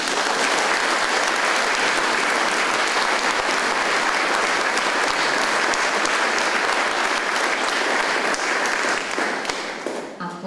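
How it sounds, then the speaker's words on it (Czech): At a Czech town awards ceremony, a hall audience gives dense, steady applause that stays loud and even for about ten seconds before tapering at the end. "my mu jistě můžeme přesto ještě jednou zatleskat"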